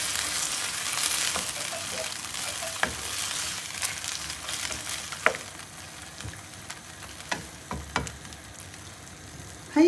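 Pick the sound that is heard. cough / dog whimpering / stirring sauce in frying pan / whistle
stirring sauce in frying pan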